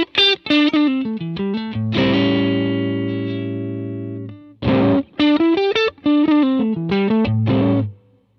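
Electric guitar played through a Vox-style amp model, a Matchless DC30 in Helix: quick picked single notes and double-stops, then a long ringing chord that slowly decays before another busy run of notes and a final sustained chord.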